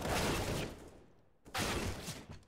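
Gunfire from the video game CS:GO on the Dust 2 map during a professional esports match, dense bursts of shots in two loud flurries separated by a brief lull.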